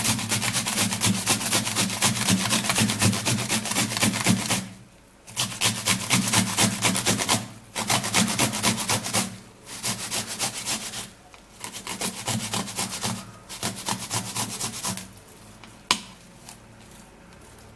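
Cucumber being grated by hand, rhythmic close rasping strokes in several runs with brief pauses between them.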